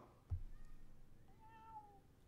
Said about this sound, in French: il a dit miaou et il a fait tout le tour